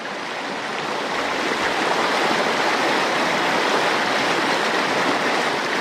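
The Tranquille River flows steadily, a dense, even rush of stream water that holds loud and close throughout, with no voices.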